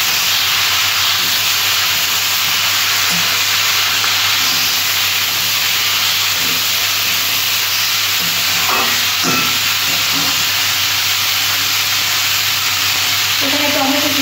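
Bottle gourd sizzling in hot oil with mustard seeds, dry chilli and bay leaf in a pan, a loud continuous frying hiss throughout with occasional stirring scrapes and faint speech.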